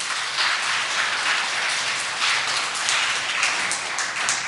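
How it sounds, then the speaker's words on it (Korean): A church congregation applauds a youth choir after a special Christmas service song, a steady broadband patter of many hands clapping that holds evenly throughout at moderate loudness with no talk over it. "우리 청년부에게 큰 격려의 박수 부탁드립니다"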